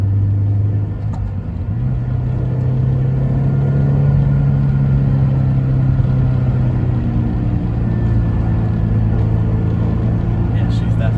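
Honda S2000 AP1 with a JDM F20C engine and cable throttle, a steady mid-pitched engine drone that lifts as the throttle is mashed after a lift-off, heard from inside the car over continuous road rumble.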